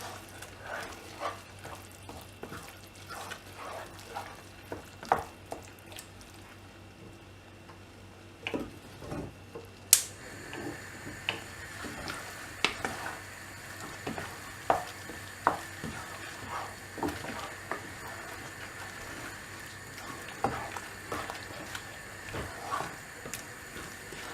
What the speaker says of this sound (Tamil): 4 முட்டையும் ஆட் பண்ணிவிட்டு இதை நல்லா மிக்ஸ் பண்ணி விடணும்